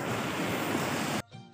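A river flows in hilly, rocky terrain as a loud, steady rush of water close by, then cuts off abruptly near the end.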